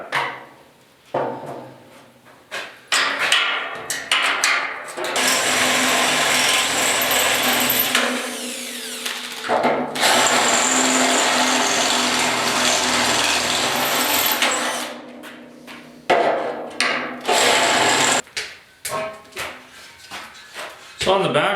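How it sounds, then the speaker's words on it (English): Power drill bores holes through the new box sides of a 1956 Ford pickup, a loud grinding whine running in long sustained bursts separated by short pauses. "we have to drill some holes here."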